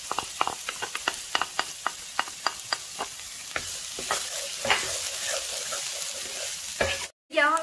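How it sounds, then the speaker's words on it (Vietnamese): Garlic and onion stir-fry in oil in a pan, a steady sizzle broken by a string of sharp utensil taps and scrapes against the pan, close and alone, with a brief dropout near the end. "cho tỏi vô xào luôn"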